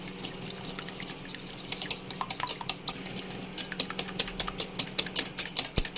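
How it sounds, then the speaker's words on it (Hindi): Fork or whisk beating an egg in a bowl for pancake batter, rapid rhythmic clinking and tapping against the bowl that grows faster and louder, close with no talk. "सबसे पहले हम एक अंडा लेंगे और इसे हमें अच्छी तरह मिक्स कर लेना है"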